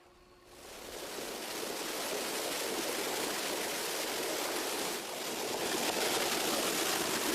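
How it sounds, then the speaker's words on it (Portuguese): Clean treated water gushes from a treatment plant into Whitewood Creek, a steady broadband rush that swells within the first second and holds loud and continuous, with no voices. "Diariamente, 15 milhões de litros de água limpa jorram da usina de tratamento para o córrego Whitewood"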